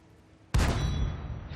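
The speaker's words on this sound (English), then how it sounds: "When he fires his gun at me is when I realize that there's a tank there." A tank's main gun firing in World of Tanks, one sudden loud boom followed by a sustained roaring decay and faint ringing tail, with no speech.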